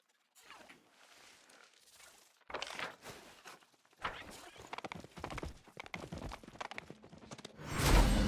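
A horse's hooves clip-clop in the fantasy role-playing game Pathfinder: Wrath of the Righteous, a quick run of close, rhythmic thuds that grows louder toward the end.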